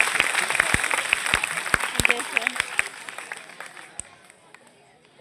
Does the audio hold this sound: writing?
no